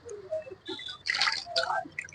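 Small fish are rinsed by hand in a basin of water, giving close, intermittent splashes, drips and sloshing bursts with quiet gaps between them.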